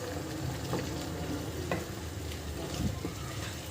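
Pepper curry (milagu kulambu) stirred in a pan, soft scraping and gentle sizzling at low volume with occasional spoon strokes, steady and close, no voices.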